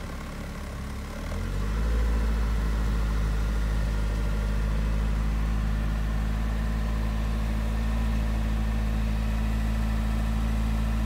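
An Alfa Romeo engine fires on a cold start and settles into a loud, steady, throbbing run with a deep, constant drone, close by, with no voices over it.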